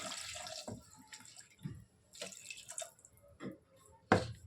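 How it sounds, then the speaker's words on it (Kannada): Water is poured into lentils in a cooking pot for sambar, giving quiet intermittent splashes and drips with short gaps, close and soft. "ಇವಾಗ ಬೇಳೆ ಬೇಯಿಸೋಷ್ಟು ನೀರು ಹಾಕ್ಕೊಳ್ಳಿ"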